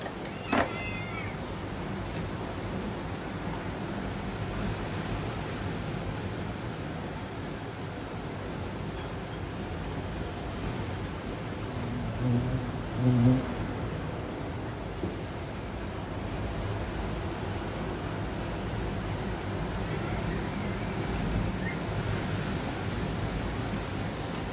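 Steady wash of sea waves on the shore, a constant, moderately distant surf roar with wind noise and no distinct breaking crashes.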